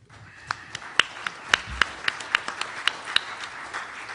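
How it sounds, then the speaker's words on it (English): Sparse applause from a small audience at a tech conference symposium, a handful of distinct claps spaced irregularly, crisp and fairly close, with no talking over them. "thanks for starting that applause back there"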